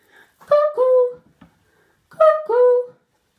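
A human voice imitates a cuckoo, giving two clear two-note 'cuck-oo' calls, each falling in pitch and spaced about two seconds apart, close and fairly loud in a garden setting.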